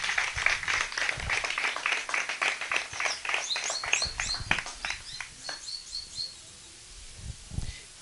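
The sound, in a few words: congregation applause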